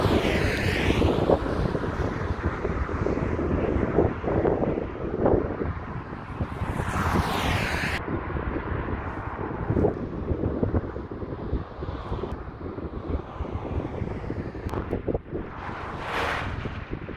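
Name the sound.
strong headwind blowing near mountains while cycling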